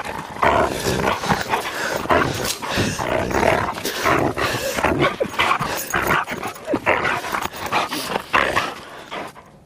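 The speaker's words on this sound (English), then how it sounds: "My vicious attack dog if anybody comes near the property." A dog barks and growls continuously at close range, loud and agitated, with rapid overlapping yaps and snarls throughout.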